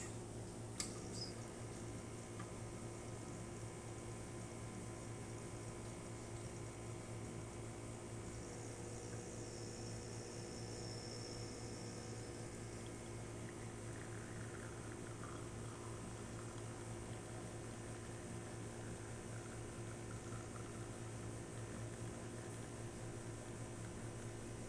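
A Lelit Mara X espresso machine runs during a test after servicing, giving a steady low mechanical hum and whir with a faint hiss midway and one sharp click near the start, no voices.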